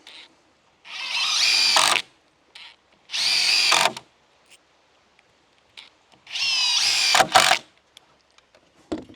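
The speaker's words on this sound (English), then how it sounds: "And then put another 3 screws in there." A power drill drives screws into the wooden frame of an 8-foot panoramic barrel sauna with porch, in three whirring bursts of about one to two seconds each, close and clear, with quiet gaps and faint clicks between them.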